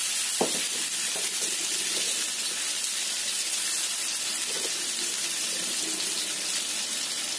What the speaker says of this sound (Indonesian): Kita tambahkan bumbu yang sudah kita ulek tadi, bawang putih dan cabenya. Kita tumis.